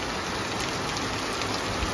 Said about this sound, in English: it's raining very heavy